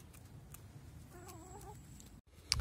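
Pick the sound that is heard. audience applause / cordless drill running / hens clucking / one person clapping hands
hens clucking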